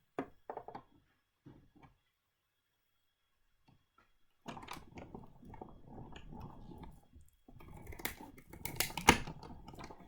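Scissors cut paper cup shapes for stamped greeting cards: quiet, close snips and paper rustle in short bursts, a lull, then steadier cutting and handling noise that grows louder toward the end.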